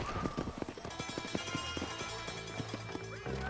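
Horse galloping up in Red Dead Redemption, a quick rhythmic clip-clop of hooves drawing near, loud and continuous for a few seconds with faint background sound.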